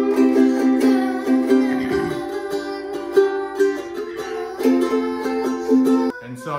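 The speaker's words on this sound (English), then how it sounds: "You can do all sorts of different strums. An island strum." Rhythmic chord strumming on a stringed instrument in an island strum pattern, bright repeated strokes ringing continuously and close, with a brief pause near the end.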